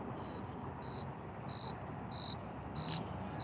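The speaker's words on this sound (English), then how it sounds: "The crickets are singing out here." Crickets chirp outdoors at night, a faint, regular series of about six short chirps over a low, steady background rumble.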